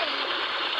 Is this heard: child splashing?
yes